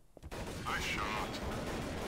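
Gunfire in Counter-Strike: Source rattles in a dense, continuous burst after a short quiet start, fairly loud and close, with a faint higher tone sliding over it.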